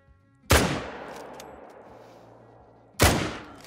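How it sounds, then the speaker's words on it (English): Two sharp .303 rifle shots in a hunting video game, each a loud crack followed by a long decaying echo, spaced a few seconds apart. "it's going to be the first shot I take with the 303 as well"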